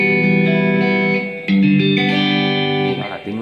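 Electric guitar played through a Zoom G1Xon multi-effects pedal on its Max 30 preset, sustained chords ringing with chorus-like shimmer and reverb, a brief break near the middle before the tone resumes and fades.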